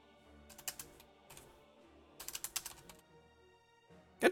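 Short bursts of computer-keyboard typing during an online Magic: The Gathering Modern match, quick clustered keystrokes separated by pauses, close and fairly quiet, ending in a louder final clatter, with no voices.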